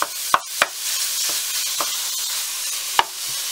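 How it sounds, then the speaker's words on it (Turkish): Minced meat sautés with onion and garlic in a hot pan, giving off a steady bright sizzle. A few sharp spatula scrapes and clacks cut through it, close up, with no voices. "Yaklaşık 200 gram da kıymayı ilave ettikten sonra hepsini birlikte kavuruyoruz."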